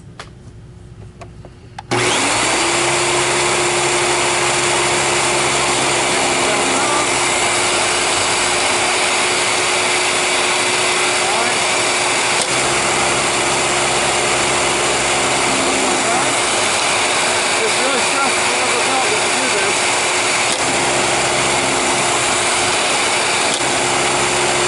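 A Royal 7450 machine switched on during a quick tune-up, its motor starting abruptly after a short quiet moment, then running with a steady high, buzzing whir throughout.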